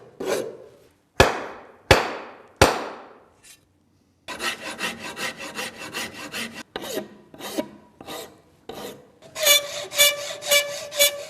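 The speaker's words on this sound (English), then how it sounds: "All the spots that are marked dark are the areas where I need to file off" A file rasping wood off an axe handle, first a few single long strokes, then a rapid run of short, close scraping strokes that grows harsher and louder toward the end.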